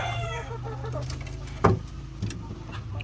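Chickens cluck and murmur around a coop of twelve laying hens, close by, with one louder squawk partway through over a low steady background hum.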